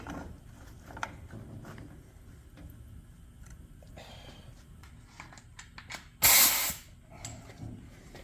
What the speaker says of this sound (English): So I'm going to get an air wrench because it's much quicker.